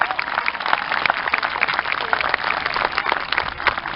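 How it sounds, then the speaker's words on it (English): Sustained applause from an audience at a regional school graduation ceremony honoring award and scholarship recipients, dense steady clapping throughout. "One final applause for all our awards and scholarship recipients."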